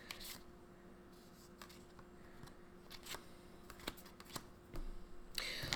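Oracle cards are shuffled in soft, papery bursts, with several quick riffles and flicks scattered across a quiet room, ending in a louder rustle.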